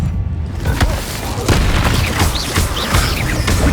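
Game combat in Hogwarts Legacy with the Incendio fire spell cast amid loud, dense booming blasts and crackling bursts that follow each other closely, a steady wall of close, heavy impacts with no clear pauses.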